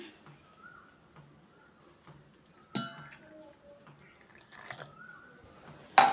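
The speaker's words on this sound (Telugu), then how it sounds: "సో మనం ఇక్కడ కొన్ని వాటర్ అయితే యాడ్ చేసుకుందాం." Water poured into a bowl of cabbage for cabbage pakoda, heard as faint, sparse trickles and drips with a couple of sharper clinks and splashes in a quiet kitchen.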